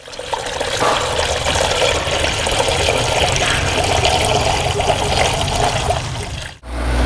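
Water poured into a Granatelli intercooler expansion tank on a 2015–2019 Corvette C7 Z06 makes a steady, close, rushing splash that runs for about six seconds, then cuts off abruptly, with no talking.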